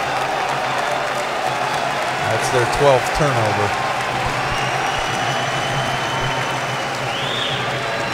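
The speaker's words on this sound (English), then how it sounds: "Home crowd trying to encourage Uruguay." A home crowd at a Uruguay basketball game, a FIBA AmeriCup 2017 match against the USA, keeps up a steady roar of cheering and applause in a large arena, heard under a commentator's voice.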